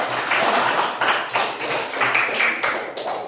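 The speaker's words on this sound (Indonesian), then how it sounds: "tepuk tangan buat Jero." A classroom of pupils claps for a classmate, a dense, steady patter of many hands lasting about three seconds without a break.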